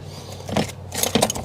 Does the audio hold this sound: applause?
no